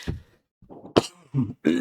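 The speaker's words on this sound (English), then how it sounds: "Coughing break." A few rough throat-clearing coughs come in short bursts, close and loud, separated by brief pauses.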